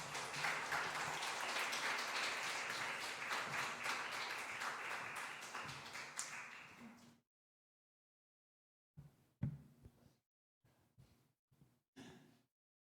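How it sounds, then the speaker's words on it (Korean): Sustained church congregation applause welcoming a speaker fills the first several seconds, then cuts to silence broken by a few short bursts of faint noise. "우리 선교사님 나오실 때 큰 박수로 환영했으면 좋겠습니다"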